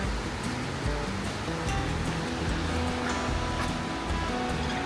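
Broadband rushing water from a river near a waterfall on a fall foliage trip in the Adirondacks and Vermont, steady and full throughout with no pauses, heard close and alone.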